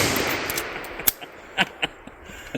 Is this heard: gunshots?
yes